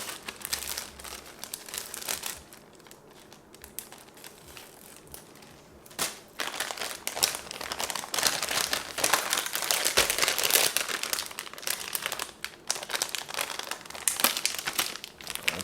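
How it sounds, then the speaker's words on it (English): A plastic bag crinkles as two pieces of Colby Jack cheese are put inside, quiet at first, then close, busy rustling and crackling that continues steadily to the end. "So 2 pieces of cheese. Into the bag they go."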